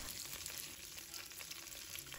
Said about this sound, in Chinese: 现在苦瓜已经煎香了，表面有焦黄色的可以了